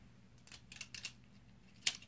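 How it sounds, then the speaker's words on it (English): A Beyblade Super Grip Launcher being wound up, with short ratcheting clicks and rasps in a few quick bursts and a sharper snap at the end, close and quiet. "going to use my new Super Grip Launcher. So let's just wind that up."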